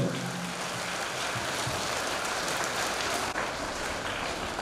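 Students clapping together at a school launch event for ISC classes XI and XII, a loud, dense, unbroken patter of many hands that sounds almost like heavy rain.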